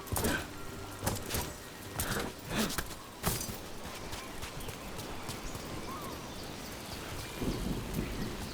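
Rain falls steadily in the fantasy video game Dragon Age: Veilguard, a soft constant hiss under a few footsteps and thumps near the start.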